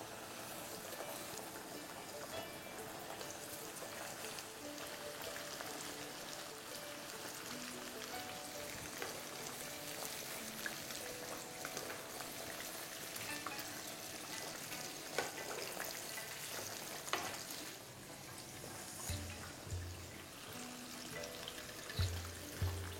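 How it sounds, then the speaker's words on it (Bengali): Masala-coated fish pieces fry in oil, a continuous crackling sizzle that holds steady for a long stretch, with a few louder pops and clatters toward the end and no voices. "এবার একে একে আমি বাকি মাছগুলোকেও ভেজে নিচ্ছি।"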